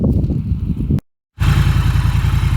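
A 2018 Triumph Thruxton R motorcycle engine idles with a rough, throaty exhaust rumble, briefly cutting out before resuming at a steady, close, pulsing beat.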